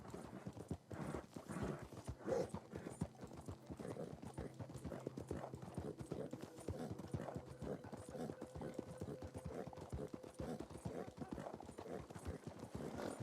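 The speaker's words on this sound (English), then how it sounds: "I'm just trying to find ways to calm my horse down but keep up the speed." A horse gallops steadily in the Red Dead Redemption II video game, rapid rhythmic hoofbeats throughout with a faint tonal music bed underneath, fairly quiet overall.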